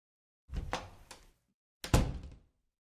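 Two muffled wooden thuds as a bathroom door is shut, the first knock-like and rattling, the second heavier and louder, both close against silence.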